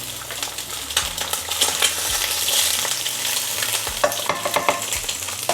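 An egg fries in a pan with a steady crackling sizzle, with occasional scraping stirs and light utensil taps close by; no one talks.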